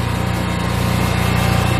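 A zero-turn riding lawn mower engine runs steadily up close, with a constant droning hum and no pauses.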